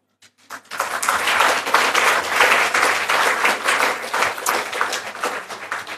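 Dense, steady audience applause fills a lecture hall almost from the start, holding strong and close for several seconds before tapering slightly at the end.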